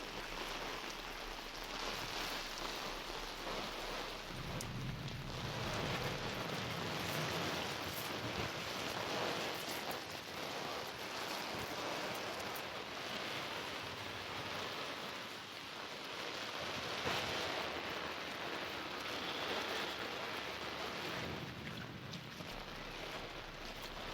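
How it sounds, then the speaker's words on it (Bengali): Heavy rain pouring down outdoors, a broad steady wash of noise that stays loud and constant throughout with slight swells, no talking heard. "এখন মা মেয়ে দুজন মিলে একটু বৃষ্টি উপভোগ করছি"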